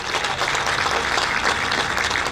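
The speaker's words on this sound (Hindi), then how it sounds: "जोरदार तालियां रहे दोनों के लिए" Dense, steady applause fills a hall at the inauguration of an eye hospital in Bhandara, where two doctors are being honoured. The clapping from a sizeable audience is loud and continuous for its whole short length.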